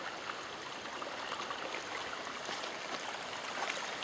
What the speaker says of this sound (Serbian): Ali ovaj žubor reke može da dopre, zar ne?